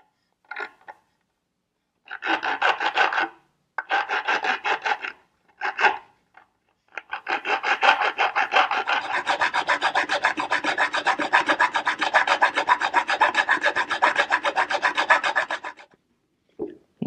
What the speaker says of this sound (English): I'm going to start to just file across the silver.